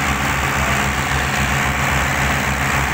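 A Ford 4600 tractor's diesel engine runs loud and close with a steady low rumbling throb and no pauses, pulling hard in a tough spot with other tractors hitched ahead.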